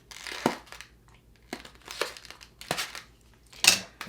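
Plastic packaging from an Amazon package containing AirPods Pro ear tips and a camera bag is cut and pulled open, giving close, irregular crinkling and tearing bursts with brief quiet gaps between them.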